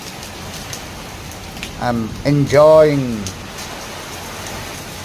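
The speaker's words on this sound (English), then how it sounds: "It is now raining heavily with hailstones." Steady heavy rain, said to include hailstones, patters evenly throughout after a long dry, sunny spell, while a nearby person talks briefly in the middle.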